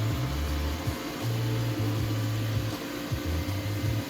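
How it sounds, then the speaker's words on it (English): A robot vacuum cleaner runs close by with a steady low mechanical hum. Its motor drone rises and dips in short stretches, and there is no talking. "Good robot vacuum."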